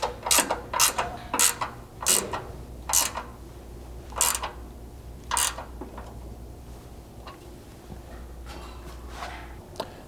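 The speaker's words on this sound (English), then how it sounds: "So your 2 3/8 bolts will just be a 9/16 wrench." Ratchet wrench tightening bolts on a Ford Bronco rear lower control arm skid plate, a series of quick clicking ratchet strokes in short bursts, close and fairly loud at first, then quieter handling noises.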